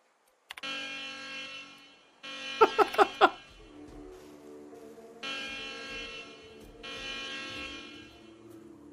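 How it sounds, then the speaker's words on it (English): An alarm in the video game The Outer Worlds sounds as a harsh electronic buzzer in long on-off blasts separated by short gaps, with a brief burst of sharp clanks early on. "Activate alarm."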